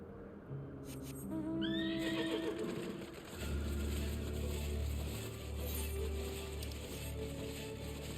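A horse in Final Fantasy XIV gives a loud, descending whinny near the start, then a steady low rumble of movement continues alone for several seconds.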